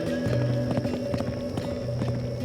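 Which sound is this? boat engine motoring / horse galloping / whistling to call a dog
horse galloping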